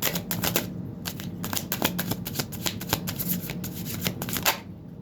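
A glossy tarot card deck being shuffled, rapid crisp riffling flutters repeating in quick bursts, close and clear with no talk over it.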